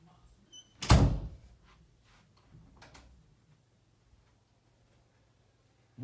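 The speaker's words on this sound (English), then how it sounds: "Can you close the door so Dale doesn't hear?" An indoor door is shut with a single loud, close thud, followed by faint shuffling and near quiet.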